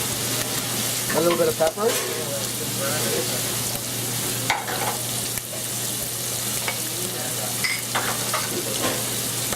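Chicken livers fry loudly in a hot pan with garlic and sage, a steady close sizzle with a few stirring scrapes, while a voice briefly speaks over it.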